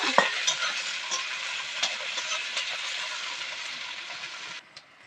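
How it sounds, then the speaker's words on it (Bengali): Chopped onions fry lightly in a pan with whole cumin, a steady close sizzle with a few soft stirring scrapes and clicks, cutting out just before the end. "এক বাটি পেঁয়াজ কুচি দিয়ে দেবো কিন্তু হালকা করে একটু ভেজে নেব"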